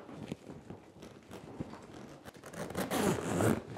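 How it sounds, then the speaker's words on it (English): A grow tent zipper drawn along fabric in several short scratchy pulls, building to a longer, louder zip near the end, close by with no talking. "there's zippers that you zip from the back."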